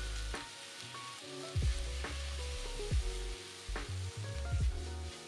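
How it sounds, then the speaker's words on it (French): Bulgogi beef searing in a sauté pan of hot oil over high heat, a steady loud sizzle with several sharp hiss bursts as meat is added and stirred, no voices. "dans une sauteuse à feu vif avec 2 cuillères à soupe d'huile qu'il faudra bien faire monter en température, mettre la viande à saisir"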